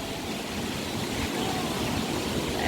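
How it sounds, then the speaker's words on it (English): Wli Waterfalls, the highest waterfall in West Africa, pours down during heavy rain, a steady broad roar of falling water close by with no talk. "The waterfall is so amazing."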